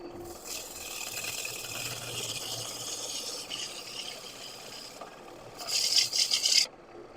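A woodturning tool cuts into spinning wood on a lathe with a continuous rasping, scraping hiss. The scraping swells into louder bursts of gritty cutting near the end, and no one speaks.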